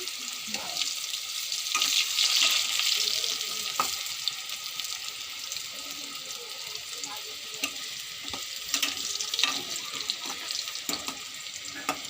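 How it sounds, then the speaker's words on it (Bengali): Potatoes sizzle in a pan of hot oil as a steady, hissing fry, with occasional clinks and scrapes of stirring breaking through, close and fairly loud throughout. "আলুটাও লাল লাল করে ভেজে নেব।"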